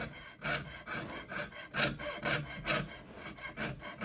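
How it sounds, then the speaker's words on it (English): A hand saw cuts metal in rhythmic back-and-forth strokes, about eight to nine in steady succession, each a bright rasping pulse, close and fairly loud with no talking. "And to start sawing, I usually go up a little bit and then down."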